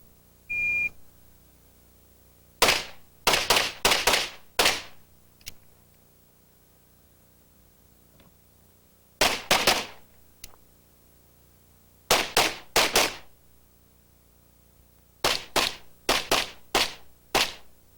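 Pistol gunfire at a USPSA practical shooting match: a start beep, then rapid bursts of sharp shots in quick strings of three to five with short pauses between, loud and close, with no talking.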